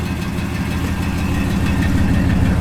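1966 Mercury Comet Cyclone GT engine idling with a loud, steady low rumble, close by and unbroken, with no speech.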